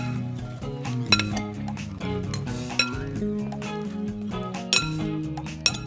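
Salad dressed with vinaigrette is tossed, and utensils clink lightly against the bowl in a few scattered taps beneath steady background music.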